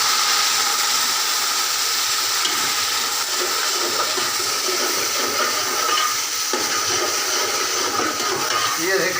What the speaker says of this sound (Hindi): पानी ऐड करेंगे इसके अंदर